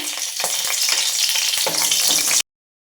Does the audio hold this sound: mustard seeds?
yes